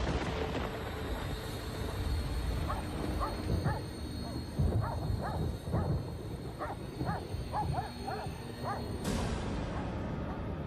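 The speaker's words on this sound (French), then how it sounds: "son chien s'est mis à aboyer" A dog barks at around four in the morning outside a house in Bucks County, a run of short yips and barks at moderate distance over a steady background hum.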